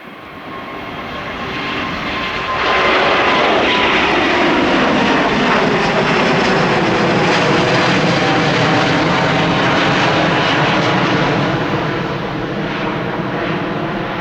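An Airbus A350 on its takeoff roll, the jet engines spooling up to a loud, steady roar that holds for several seconds, then eases slightly as the aircraft climbs, with no talk.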